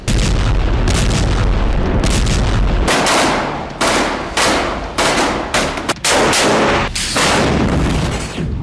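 Loud, close bursts of gunfire and booming artillery shelling in Gaza, with repeated heavy blasts and rattling volleys following one another across the whole stretch.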